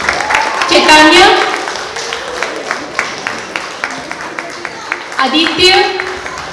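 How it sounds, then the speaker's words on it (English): Scattered clapping from a recital audience after a tabla student's name is called, bursts of applause rising and fading over cheers and talk from the announcer in the room. "Please give him a applause"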